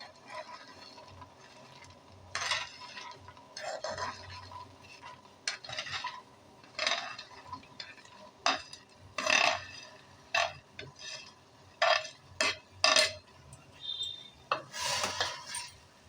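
Three-coloured boondi being added to boiling sugar syrup in a pan for a Bengali sweet, giving intermittent bursts of wet sizzling and bubbling with clinks of a spoon against the pan, close up and with no talk.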